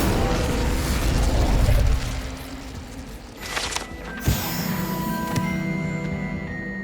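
Fiery Incendio spell cast in Hogwarts Legacy on PC, a sustained low roaring burst in the first two seconds, then a sharp pop near the middle and lingering magical shimmer and tones in the game's ambience.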